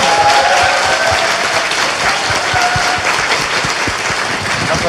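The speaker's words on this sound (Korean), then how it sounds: "박수 부탁드립니다." A studio audience claps at a Korean talk show, a steady, dense burst of applause that stays loud and close for several seconds before easing off slightly toward the end, with no talking over it.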